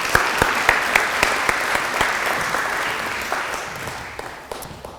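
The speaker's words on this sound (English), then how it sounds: "Can we have a warm round of applause for Sam?" A warm round of applause for a speaker at a lunchtime history talk, a steady crowd clapping with distinct close claps on top, gradually fading toward the end.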